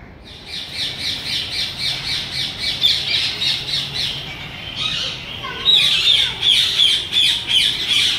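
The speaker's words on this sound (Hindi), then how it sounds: "ये है तोते ये देखिए बहुत सारे तोते हैं यहाँ पे उनको बोलते हैं हरियल तोते" A flock of green parakeets at a zoo squawks continuously in loud, rapid, overlapping calls. The calls rise to a harsher, denser burst in the final seconds, and no one speaks.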